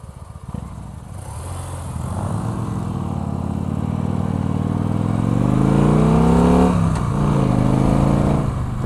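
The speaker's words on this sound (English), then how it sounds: "There is no way that that's a two-cylinder bike." A two-cylinder motorcycle passes on the road, its engine growing steadily louder and rising in pitch as it approaches and goes by, over the rumble of a moving vehicle.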